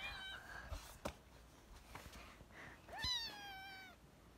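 A house cat meows twice, a short call at the start and a longer, drawn-out meow near the end, close and clear over quiet room noise.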